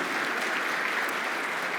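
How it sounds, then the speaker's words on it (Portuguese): A church congregation applauding the staff, dense sustained clapping from many hands filling the room, loud and steady with no talking over it. "eu gostaria que nós pudéssemos dar um aplauso para essas pessoas que trabalham"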